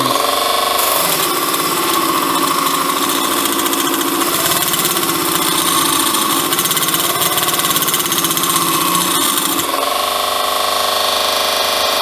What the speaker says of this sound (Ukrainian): Увімкнув режим 24 вольта, вмикаємо пробу.